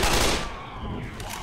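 Loud burst of gunfire from a gun in the zombie shooter Left 4 Dead, a dense rapid volley at the start that thins into a rattling spray of shots over a noisy background.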